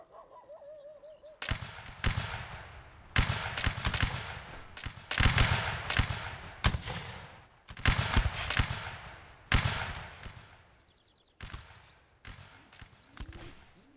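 Musket fire at will from a line of soldiers in the video game Napoleonic Wars, many sharp loud cracks rippling in irregular bursts across the whole stretch.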